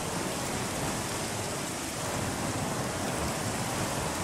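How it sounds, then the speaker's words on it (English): Acid rain falls in the Minecraft Create: Astral space modpack, a dense, even hiss of heavy rain that stays loud and unbroken throughout, with no voices. "Oh, the acid rain."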